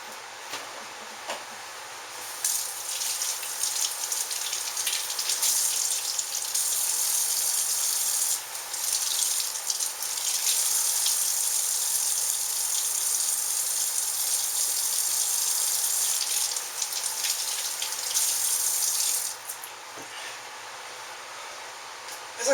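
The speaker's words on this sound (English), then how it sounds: "We're going to run under the water anyway" Tap water gushes steadily into a kitchen sink, rinsing vegetables for chicken stock; a loud, continuous hiss begins after a few seconds, runs close and unbroken for most of the clip, then cuts back near the end.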